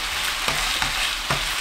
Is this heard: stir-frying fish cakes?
yes